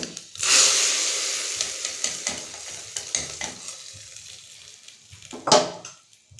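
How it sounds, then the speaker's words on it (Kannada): Hot tempering is poured into beetroot sambar, setting off a loud, crackling sizzle that fades and then flares again as it is stirred, with no talk over it. "ಈಗ ಈ ಒಗ್ಗರಣೆನ ಬೀಟ್ರೂಟ್ ಸಾಂಬಾರು ಏನು ನಾನು ತೋರಿಸಿದ್ದೀನಿ ಅದಕ್ಕೆ ಹಾಕ್ತಾ ಇದ್ದೀನಿ"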